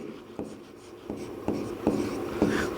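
A pen writes lines of a maths solution on paper, making soft scratchy strokes with a handful of light taps as each stroke begins. The sound is close and quiet, with no talking.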